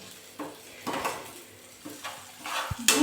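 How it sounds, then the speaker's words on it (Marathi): Smashed eggplant being stirred into a pan for baingan bharta, with a handful of soft scraping and clattering strokes of a spoon against the pan over a faint sizzle, spaced out and fairly close. "आता ह्याच्यात आपण स्मॅश केलेलं वांग टाकूया मी छान मिक्स करून घेऊया"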